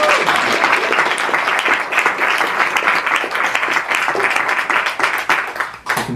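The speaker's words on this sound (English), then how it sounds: "I'm gonna let you applaud" Audience applause at a book release Q&A, steady dense clapping from a crowd sustained for about six seconds, loud and close, fading slightly near the end.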